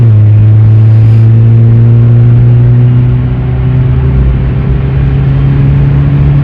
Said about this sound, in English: I figure it would be a good time to show 0 to 60 with this Ford